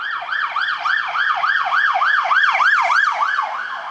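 An ambulance siren wails in a rapid, regular up-and-down sweep that stays loud and steady and swells slightly mid-pass as it moves along the road.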